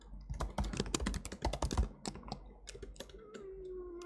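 Rapid typing on a computer keyboard while coding, dense bursts of close clicks for the first two seconds, then sparser scattered keystrokes over a faint steady tone.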